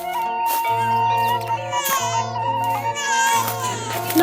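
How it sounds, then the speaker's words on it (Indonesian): A newborn infant cries in a park in a staged drama, its wails rising and falling in repeated bursts over steady, sustained musical tones. "Mengapa ada suara tangisan bayi?"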